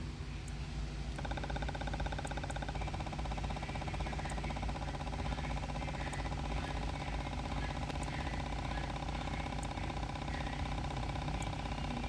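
A 2013 Cadillac XTS idles with a fault in its EVAP purge flow, a steady low engine drone joined partway through by a fast, even buzzing tick from the purge valve, with faint sharp clicks scattered throughout.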